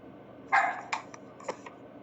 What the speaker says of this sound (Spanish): tengo una perrita que está que ladra